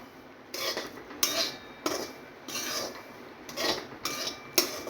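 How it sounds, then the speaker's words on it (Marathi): Semolina is dry-roasted in a pan over a low flame, with a utensil scraping and stirring in repeated strokes, faint and close, with no talking. "बारीक ते मध्यम गॅसवरती आपण छान रवा असा भाजून घेऊया"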